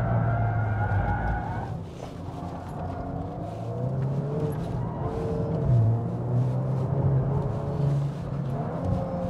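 Engine and tyre noise from a 2022 Volkswagen Golf R lapping the Dubai Autodrome circuit at speed, a steady loud drone with shifting engine pitch and tyre scrub throughout.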